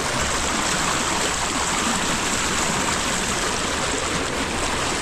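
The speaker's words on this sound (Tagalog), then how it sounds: "lakas ng agos ng tubig oh." Strong river current of rushing water roars in a steady, dense wash of noise, loud and unbroken throughout with no voices.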